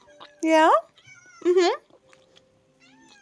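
A pet cat meows twice nearby, with two clear, rising, drawn-out calls about a second apart over a quiet room, and someone speaks briefly between them.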